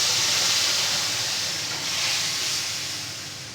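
Potato and eggplant added back to reddened spice masala in a pan give off a steady, loud hissing sizzle that fades slightly toward the end.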